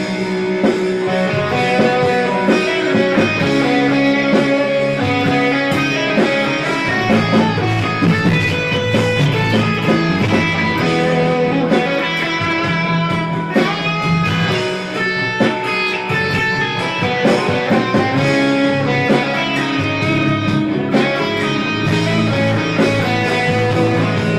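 Guitar playing a major scale pattern: a continuous run of bright, ringing plucked notes with sustained overlapping tones, steady and fairly loud with no talking.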